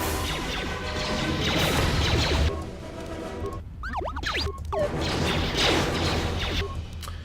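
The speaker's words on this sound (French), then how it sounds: "Donc là, on balance une grenade." In the Star Wars KOTOR 2 video game, a thrown grenade sets off a loud crash amid busy combat noise, followed by whooshing, metallic clanks and springy effect sounds as the fight continues, with no speech.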